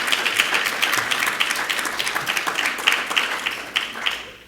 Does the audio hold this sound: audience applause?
yes